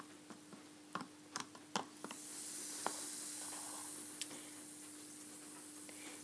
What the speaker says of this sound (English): It's fizzing up a lot and you must probably be able to hear it.